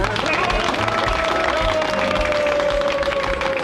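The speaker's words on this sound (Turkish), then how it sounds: "Alkışlayalım beyler." A gathered crowd of townsmen claps and murmurs together as an airplane lands, a steady dense patter of applause with a droning engine tone running beneath and voices chattering throughout.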